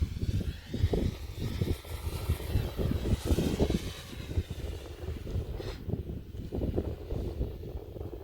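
An RC F4U-1D Corsair model warbird with a 1600mm wingspan flies overhead, its motor droning steadily amid wind noise while a person speaks.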